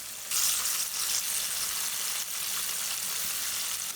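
Peri peri chicken wings coated in flour deep-frying in hot oil give a steady, loud, dense sizzle and crackle that holds throughout with no voices.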